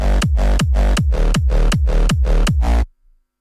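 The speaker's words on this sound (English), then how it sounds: "hardstyle kick run through a nimble kick that sounds like this" Hardstyle kick drum synth processed through a kick plugin, hitting about nine times in a steady, even rhythm, loud and punchy with a booming low tail on each hit, then stopping abruptly.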